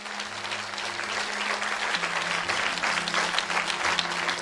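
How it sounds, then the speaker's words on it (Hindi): A church congregation claps together for its leaders, a dense, continuous wash of hand claps holding steady and loud for several seconds with faint music tones underneath. "आइए तालियां बजाइए इन लोगों के लिए।"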